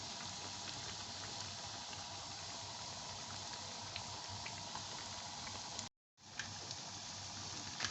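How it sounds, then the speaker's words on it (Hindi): Aloo kabab potato patties fry in oil with a steady, dense crackling sizzle that continues throughout, briefly cutting out near the end before resuming. "ये देखें, ये फ्राई हो गए हैं"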